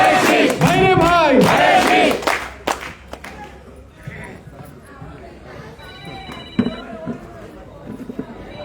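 A crowd at a rally for the pitcher (kolshi) election symbol chants slogans in unison and claps along. The chanting is loud for the first couple of seconds, then drops to a murmur of voices and scattered noise.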